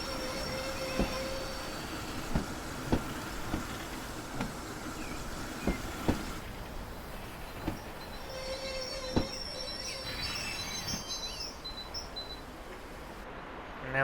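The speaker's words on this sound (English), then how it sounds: "There we go, the train is in the platform as it should be." A train in Train Simulator's Spa Valley Railway rolls slowly into a platform, with a steady low rumble, regular wheel clicks over rail joints and faint squeals as it comes to a stop.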